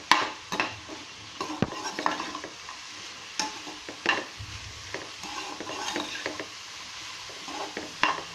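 Mushrooms are stir-fried in a pan, with a low sizzle under repeated sharp scrapes and knocks of a spatula against the metal, close and uneven in rhythm.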